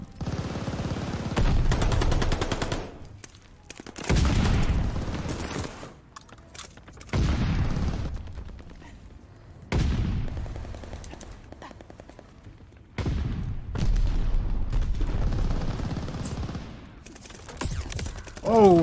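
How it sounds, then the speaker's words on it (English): Bursts of automatic gunfire in the multiplayer shooter Call of Duty: Vanguard, loud volleys of several seconds each separated by short quiet gaps, with mechanical clicks and occasional talk. "Oh, where am I getting shot from?"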